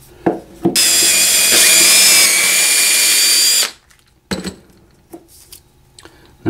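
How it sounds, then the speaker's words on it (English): A power drill bores a pilot hole through a wooden Christmas ornament blank being prepared for scroll saw cutting, whining loudly for about three seconds before stopping, followed by a few faint clicks and handling knocks. "Also remember to drill it for a pilot hole on the other side."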